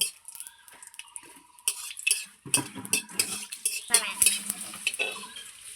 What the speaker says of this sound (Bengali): এই শুকনো লঙ্কাটা আমি লাল লাল করে ভেজে নেব।